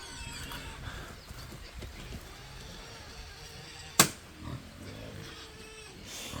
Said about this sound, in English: Record some pigs.